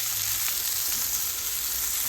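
Burgers frying in a pan give off a steady, even sizzle that carries on unbroken and fairly close, with no one talking.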